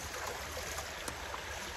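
A shallow stream used for washing laundry flows with a constant, soft rushing hiss, faint and even throughout with no voices.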